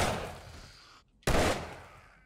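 Two sharp Desert Vulture pistol shots in the video game 7 Days to Die, each a loud crack trailing into a short decay, separated by a brief silent gap.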